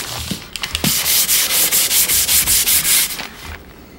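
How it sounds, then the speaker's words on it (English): An extra fine nylon abrasive pad scrubs varnish onto wood in quick back-and-forth strokes, about a dozen rhythmic close rasping swishes with no talking. "I like to use extra fine nylon abrasive pads to scrub the varnish onto the wood"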